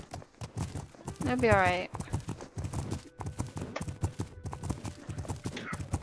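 Horse hooves clip-clop in a steady, close rhythm in The Legend of Khiimori, a horse-catching game, with a short whinny partway through, heard under continuous talking from a man.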